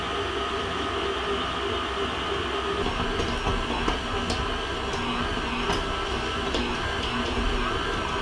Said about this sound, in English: it's going to kind of be kneaded by the mixer